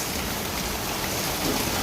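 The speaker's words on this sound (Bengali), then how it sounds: "বৃষ্টি এসেছে, আমরা সবাই দাঁড়িয়ে আছি।" Heavy rain pours down in a dense, steady hiss, close and loud, with no pauses or voices.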